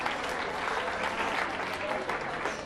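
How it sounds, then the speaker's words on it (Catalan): A short burst of steady audience applause for schools and institutes in a Catalan quiz show studio, full and even clapping from start to finish. "Aplaudim també en aquestes escoles i en aquests instituts"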